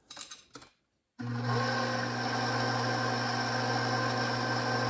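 An electric mixer mixes cake mix batter for a thin mint pound cake, starting after a brief quiet pause and whirring as a close, steady motor hum that runs continuously to the end.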